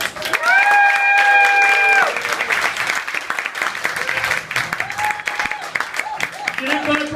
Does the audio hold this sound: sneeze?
no